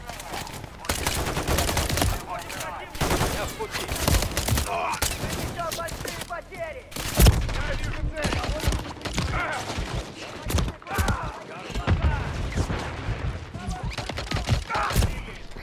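Rifle gunfire in the Call of Duty Modern Warfare III campaign: sharp, loud shots in quick bursts and single cracks, with brief pauses and voices in between.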